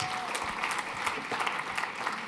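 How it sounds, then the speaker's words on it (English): A presentation audience gives a round of applause, dense steady clapping from many hands that holds at an even level throughout, with a faint voice mixed in. "Give ChatGPT a round of applause"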